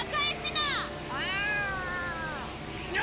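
A game cat in Yakuza: Like A Dragon gives two short meows and then a longer drawn-out meow over steady background game sound.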